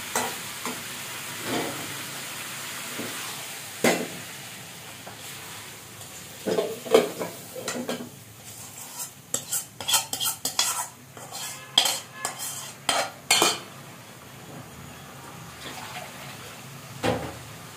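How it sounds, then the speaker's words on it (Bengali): Cooked chicken curry is scraped from a wok into a small pot, with irregular metal spoon clinks and scraping that grow busier and louder partway through, close up and without talk. "আমি একটা ছোট পাতিলে ঢেলে নেবো মাংসটা।"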